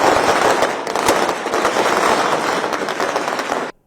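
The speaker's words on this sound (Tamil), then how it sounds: "அதிகாலையிலேயே குவிந்த ரசிகர்கள் பட்டாசுகள் வெடித்து கோலாகலமாக கொண்டாடினர்." Firecrackers set off by crowds of fans outside a cinema in Rajapalayam celebrating an Ajith Kumar film's first-show release: a loud, dense, continuous crackling barrage that cuts off abruptly near the end.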